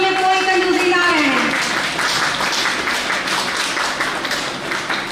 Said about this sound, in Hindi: तालियों में कोई कंजूसी ना रहे।